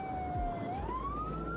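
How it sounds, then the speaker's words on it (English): A police car siren wails during a chase, one long tone dipping and then sweeping upward, fairly faint over a low traffic rumble. "So, sirens back on,"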